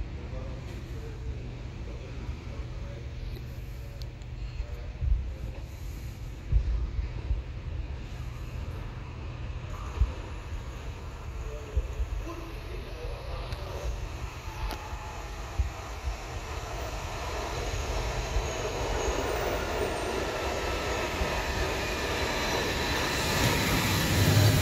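A Lyon Metro line D train arrives at a station with a steady rolling rumble and hiss that builds toward the end, with occasional clicks and distant voices in the background.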